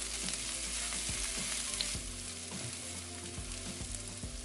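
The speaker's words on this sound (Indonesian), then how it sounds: "Kita tumis bawang putih yang sudah dihaluskan dan daun bawang bagian putihnya." Ground garlic and white scallion parts sautéing in hot oil, giving a steady close sizzle with soft scraping stirs, no voices.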